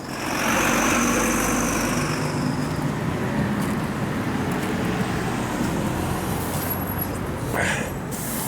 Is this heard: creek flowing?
no